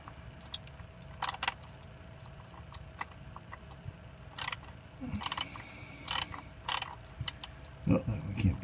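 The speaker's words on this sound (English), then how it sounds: "I'm taking a 20 Torx and I'm going to be taking out my filter" A T20 Torx driver works on the transmission filter bolts of a 1998 Jeep Grand Cherokee, giving scattered metallic clicks, ratcheting ticks and small clanks at close range over a quiet background, with faint voices now and then.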